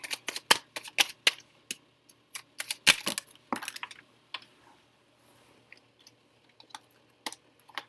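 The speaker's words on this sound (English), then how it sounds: "all my cards just fell on the floor" A deck of tarot cards falls onto the floor, sounding as a quick scatter of sharp, close slaps and flutters that thins into a few scattered taps near the end.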